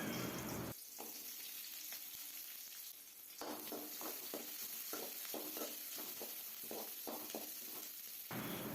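Chopped big onions dropped into hot oil in a kadai for idli sambar, a sudden loud sizzle that settles into steady frying with repeated stirring scrapes.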